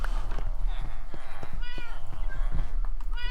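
A cat meows in Minecraft, several short mews rising over a busy game soundscape of hoof-like clopping and background noise, close and fairly loud.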